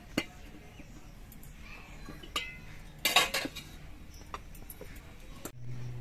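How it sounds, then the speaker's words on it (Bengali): Metal cookware clanks and clinks in a home kitchen as a wok used for frying luchi is lifted off the stove and a milk pan is set down, with a loud clatter midway and softer knocks around it. "এবার কড়াইটা নামিয়ে নিচ্ছি, আবার দুধের কড়াইটা বসিয়ে দিচ্ছি"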